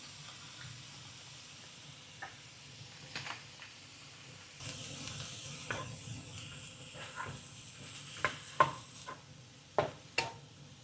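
Steamed cauliflower rice and mixed vegetables hit a hot pan in a low, steady sizzle, with occasional sharp clicks and scrapes of stirring near the end; no voices.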